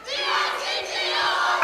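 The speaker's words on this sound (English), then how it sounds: "Wildcat crowd, student body, getting as loud as a crowd can get with masks on." A high school volleyball student section, the masked Wildcat crowd at a district match, roars and shouts loudly and continuously in a gym, a dense, sustained wall of cheering.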